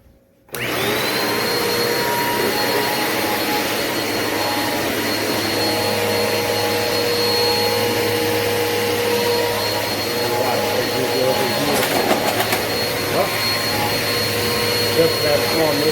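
Eureka upright vacuum cleaner motor starts after a brief silence, then runs loud and close with a steady roar and a constant high whine for the rest of the recording.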